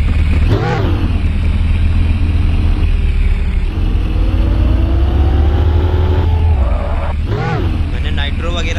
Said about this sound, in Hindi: अरे भाई इंजन स्टार्ट हो जा।